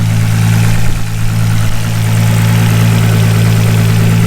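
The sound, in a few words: Nissan Skyline R33 GTST 700bhp engine with loud exhaust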